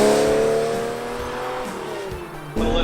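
A Ferrari Testarossa, with 400 horsepower, runs close by as its engine warms up, its tone rising and falling across revs with a brief dip before the engine picks up sharply again, with no talk.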